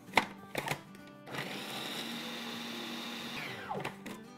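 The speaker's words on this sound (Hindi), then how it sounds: "1 हैंडफुल हरा धनिया ग्राइंड कर लेते हैं" Electric grinder whirring steadily as it blends a handful of fresh green coriander, a continuous loud hum lasting a couple of seconds, framed by a few short knocks and clatters before it starts and as it winds down.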